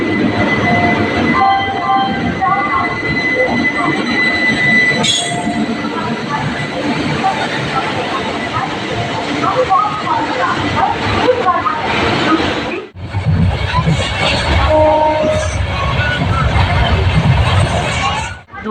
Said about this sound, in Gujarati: હવે અહીંયા ટ્રેનની વાટ જોઈએ છીએ